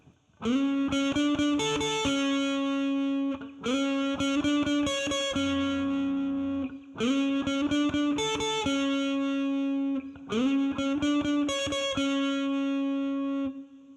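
Distorted electric guitar plays a repeating phrase of quick notes ending on a held, sustained tone, in four similar passes, loud and upfront.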